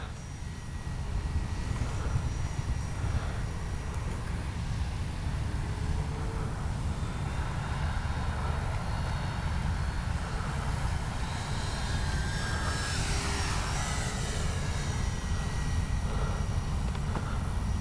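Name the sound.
Durafly 1100mm T-28 Trojan RC model airplane flying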